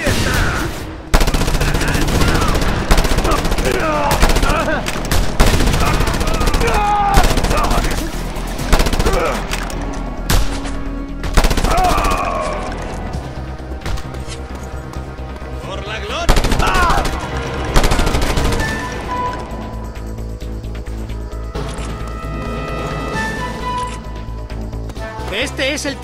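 A mounted machine gun hammers away in Just Cause 2 amid a loud, dense mix of gunfire, crashes and game effects that runs almost continuously, with voices speaking over the action.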